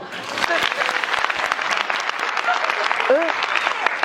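Stand-up comedy audience applauding in a vote by applause, a thick continuous patter of many hands filling the room throughout, with voices and laughter mingled beneath the clapping.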